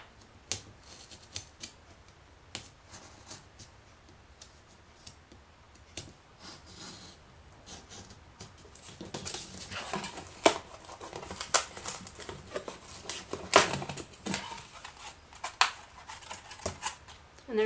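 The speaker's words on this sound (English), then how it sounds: "you may have to cut it twice to go through all the layers." Scissors cut through several layers of fabric while a fabric storage box is being made, with repeated close snipping and crunching that grows louder and busier in the second half. There is no talking.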